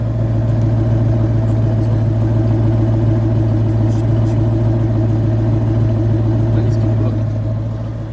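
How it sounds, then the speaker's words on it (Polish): Ford Mustang GT with a Boss 302 manifold running on a cold engine, a deep, steady low-rpm rumble held close and loud for about eight seconds, then easing off slightly at the end. "Ok, i przegazówka."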